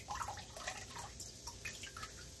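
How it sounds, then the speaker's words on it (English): Cut iceberg lettuce rinsed under running water, a soft continuous trickle with light dripping and splashing, faint and close, with no talking. "Just going to rinse it off and spin it out with my spinner."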